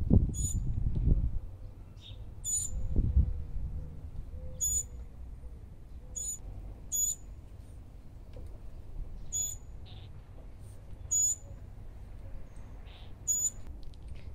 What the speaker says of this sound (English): all these birds are flying in.